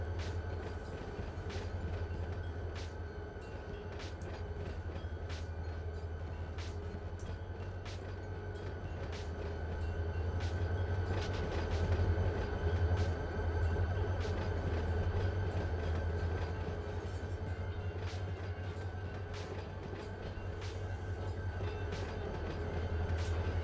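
A train in the Run 8 Train Simulator V2 game rumbles steadily along with a continuous low drone and rhythmic clicking of wheels on track, unbroken throughout.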